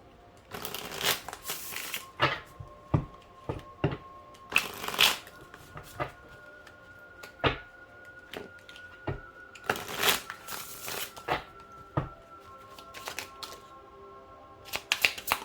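Playing cards riffled and shuffled in several quick bursts, with soft taps and flicks between them, close up and without talk.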